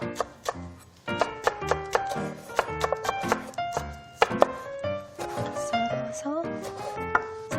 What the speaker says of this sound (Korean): 그냥 이렇게 송송 썰어 주시면 됩니다